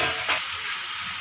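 Eggplant pieces go into a hot pan of masala with a brief rustling thump, then a steady hissing sizzle continues alone.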